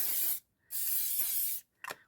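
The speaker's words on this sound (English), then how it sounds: "spray it so that you have hairspray on every bit of that" Hairspray is sprayed onto a ribbon hair bow in two close, sharp hissing bursts separated by a brief pause, followed by a short third spurt at the end.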